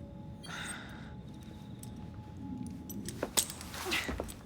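Metallic jingling of keys near the end in Assassin's Creed Syndicate, a few brief bright clinks over a low steady background hum.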